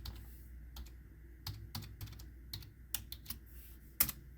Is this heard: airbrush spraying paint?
no